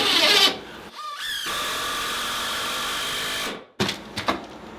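Power tool driving bolts through sistered floor joists while fixing a squeaky floor, a loud sustained whirring run lasting a few seconds, then a brief pause and several short bursts at close range.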